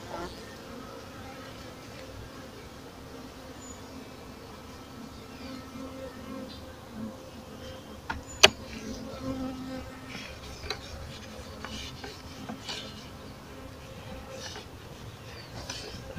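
Honeybees buzz steadily at a newly split hive, a dense close drone that holds throughout, with a sharp tap or knock partway through and a few faint clicks.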